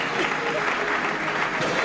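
An audience claps steadily and densely throughout, a sustained wash of applause filling a talk-show studio.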